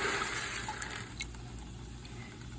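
Water rinses and sloshes through an old, dirty tank being cleaned out, a steady gushing wash at moderate volume with no voices.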